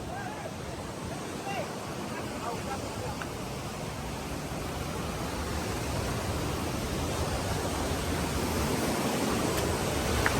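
Steady, loud rushing of water flowing at Devpahri Waterfall in Korba fills the whole clip, a dense continuous roar with a voice faintly underneath.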